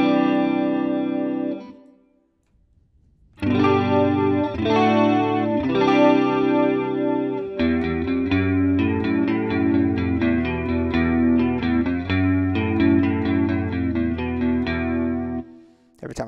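Electric guitar played through amp simulation software with a chorus effect, shimmering chords and picked notes ringing for about sixteen seconds after a short pause, close and alone.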